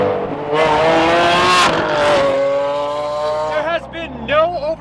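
A Liberty Walk widebody Lamborghini Aventador limited edition with a 6.5-liter V12 and titanium exhaust, loud and close, revving hard with rising harmonic engine tones, then sharp throttle blips, with someone speaking over it.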